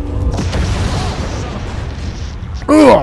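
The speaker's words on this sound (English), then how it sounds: "Ugh, a big explosion just knocked me through the air." A big in-game explosion in Borderlands 2 bursts loud and close at the start, its rumble trailing off into noisy action, with a voice briefly cutting in at the end.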